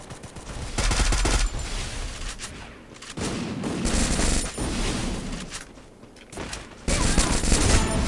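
Rapid automatic gunfire in the battle-royale game Free Fire, loud bursts of shots in several volleys with brief lulls between them, with faint talk in the background.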